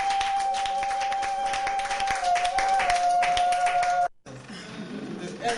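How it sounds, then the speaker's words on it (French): An audience applauds at a women's award ceremony, producing a steady, dense patter of clapping over a humming tone that cuts off abruptly, followed by quieter room sound. "Est-ce qu'on peut l'applaudir?"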